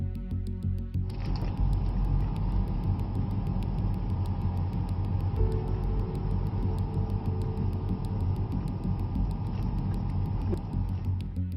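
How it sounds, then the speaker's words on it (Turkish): An unattended machine runs by itself at night in an empty packing area, giving off a loud, steady mechanical drone with a faint rhythmic ticking and a constant rumbling bed that never stops. "kendi kendine çalışan bir makine fark edeceksiniz"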